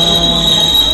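A Vande Bharat Express train brakes to a stop at a station platform, giving a loud, steady, high metallic squeal with a continuous rumble underneath.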